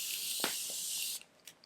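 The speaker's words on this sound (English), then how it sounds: "I'm going to use my Morphe spray" A close, soft hiss from a makeup setting spray bottle runs for about a second, then cuts off, leaving faint rustles.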